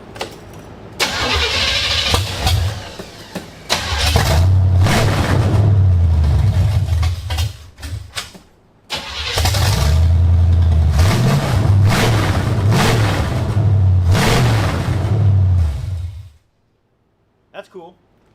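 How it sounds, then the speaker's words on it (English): A Corvette engine with no exhaust fitted starts and runs loud, raw and close in two long bursts of rumbling revs separated by brief pauses, with people talking between and over it. "let's see what it sounds like with no exhaust."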